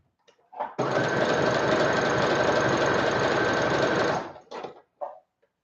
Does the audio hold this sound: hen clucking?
no